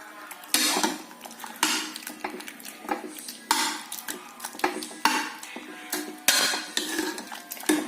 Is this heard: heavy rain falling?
no